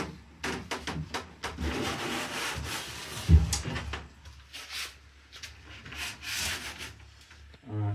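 A wooden wall panel in a cabin bedroom is pulled back out, giving a string of close scraping, rubbing and knocking sounds with a sharp thump partway through.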